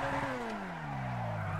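A car drifting on a mountain road in GTA V, engine note falling steadily as the car slides through a turn, fairly quiet and continuous.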